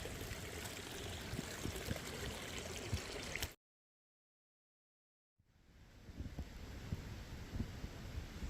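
Water flows steadily in an orange-coloured river beside the Appalachian Trail, a rushing babble that cuts to total silence for about two seconds, then fades back in.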